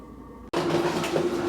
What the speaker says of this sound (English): excuse the noise for a bit if you can hear it. I've turned the heater up